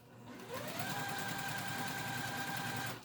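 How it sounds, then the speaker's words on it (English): A sewing machine chain-pieces quilt squares with a 1/4 inch seam, running in one loud, steady, continuous whir that lasts almost the whole clip after a brief quiet start. "we're just going to sew them together in pairs of 2"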